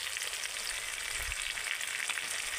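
Chili powder, cumin and coriander spice paste frying in oil for a jackfruit dish, a steady close hiss of sizzling with a brief stirring scrape partway through, no voices.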